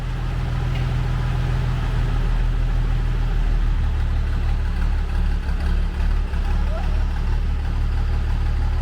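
A Chevrolet Silverado that had sat unused for six years runs steadily after the clutch is let out in first gear, a loud, close, continuous low engine drone with no talk.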